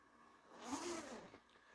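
A zipper is drawn shut on a fabric laser-cutter enclosure, a soft rasping slide that swells for about a second and fades, heard quietly and close with no talking.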